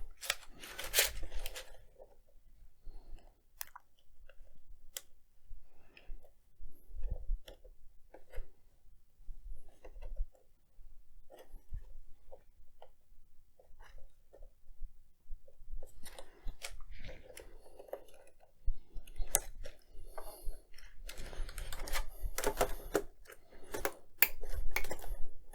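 A used laptop's keyboard being refitted during a repair, heard as a run of small plastic clicks, taps and snaps, close and sparse at first, then denser near the end, with no talking.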